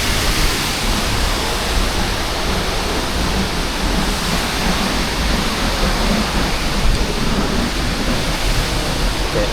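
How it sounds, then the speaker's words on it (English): Close, roaring waterfall on Iceland's south coast, heard from behind the falling water: a dense, steady broadband rush of crashing water that stays loud and unchanging throughout, with no voices. "Crazy how you can just walk behind a waterfall like this."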